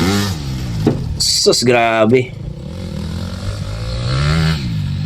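A 250cc motorcycle ridden by a young girl revs and accelerates nearby with rattling clatter, while people shout and talk over the engine.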